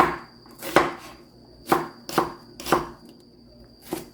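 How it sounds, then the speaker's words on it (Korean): A knife chops onion into 1 cm pieces on a cutting board for a Korean stir-fried onion side dish: five or six crisp, close thuds at an uneven pace, with quiet gaps between them. "양파를 썰어 보겠습니다."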